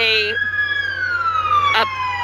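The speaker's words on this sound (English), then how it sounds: "I'm hearing more lights and sirens" A loud police siren wails with a slowly falling tone at a protest scene, with brief bursts of other noise at the start and near the end.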